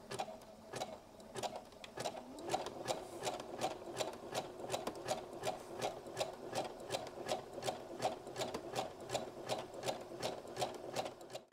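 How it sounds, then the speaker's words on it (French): A sewing machine zigzag stitching around the pockets of a vintage criss-cross fabric apron, with a steady rapid mechanical chatter of evenly spaced needle strokes throughout, close and moderately quiet, with no talk. "J'ai fini le zigzag autour de mes 4 poches."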